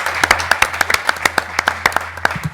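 An audience at a telecom conference panel on network security and resilience applauds the moderator and panel. Brisk, fairly close clapping comes from a modest crowd in a short, steady burst, with no talk.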